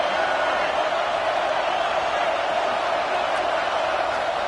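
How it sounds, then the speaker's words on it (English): A football stadium crowd roars in a steady, dense wall of cheering and noise throughout, loud and unbroken, with no distinct individual voices. "This crowd trying to make life miserable for this offense."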